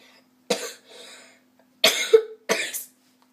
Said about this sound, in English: I had a cough today.